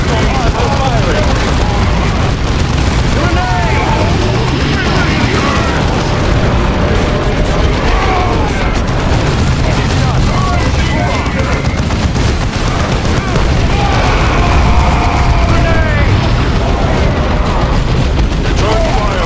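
Weapons fire and explosions in the Warhammer 40,000: Dawn of War 2 video game, a dense, continuous battle din of booming blasts and gunfire throughout, with game voices calling out over the combat.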